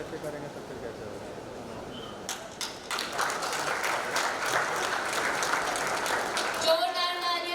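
Audience applause at the Champions of Change Maharashtra award ceremony, starting with a few scattered claps and swelling into dense, sustained clapping from a large crowd, with a brief ringing tone near the end.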